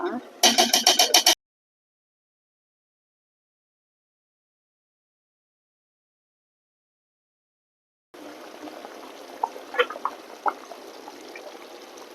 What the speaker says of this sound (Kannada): ಈಗ ಸ್ಲೋ ನಲ್ಲಿ ಐದು ನಿಮಿಷ ಬೇಯಿಸುವ